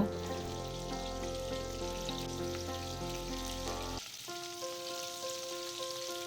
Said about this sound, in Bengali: তেল মিডিয়াম গরম হলে তার মধ্যে একটা করে চিংড়ি ধীরে ধীরে কড়াইতে দেব।